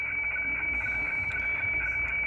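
Weather fax tones received on a shortwave radio tuned to 9.108 with the BFO adjusted: a steady, unbroken high whistle held over a continuous hiss of background noise, with no voice.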